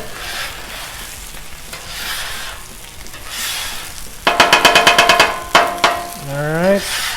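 Potatoes frying on a Blackstone flat-top griddle, a steady sizzle joined midway by loud metallic spatula scrapes and taps against the steel surface.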